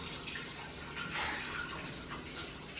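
Tap water runs steadily in a kitchen, a soft continuous rushing splash at moderate distance with slight surges.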